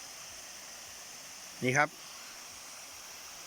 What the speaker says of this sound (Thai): นี่ครับน้ำก็ไหลลงมาจากเขาใหญ่นะครับ